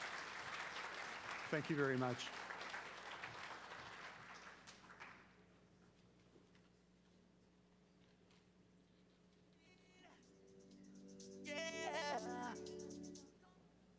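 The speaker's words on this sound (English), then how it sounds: "please join me in a round of applause" An audience at a talk on alternative therapies applauds in a short, moderately loud burst, then fades, with a speaker's voice heard over and after the clapping.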